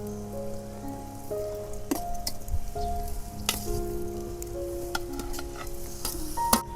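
Potatoes go into a frying pan and are stirred in with sugar and ground chili, giving a steady sizzle with scraping stir strokes and clinks of a utensil against the pan, close and moderately loud with no talking.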